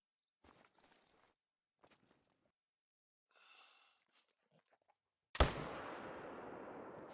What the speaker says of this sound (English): I think we have to take that shot on the bear.